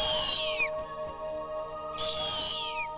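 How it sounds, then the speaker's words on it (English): Harpy eagle calling in a rainforest canopy: two drawn-out, high, wailing whistled calls that slide downward, each lasting about half a second, separated by a pause, clear over a steady hum of forest insects. "A harpy's calls helped lead Neil to its nest, just a few miles from his old study site"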